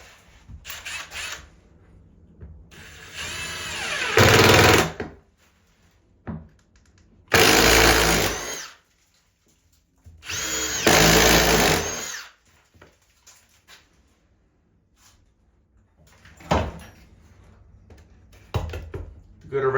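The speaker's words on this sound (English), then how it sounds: "Now we just gotta drill the starter hole" A power drill bores a starter hole inside a cut 4-inch circle for a sauna air vent, with three loud whirring bursts separated by pauses and some knocks and handling noise between.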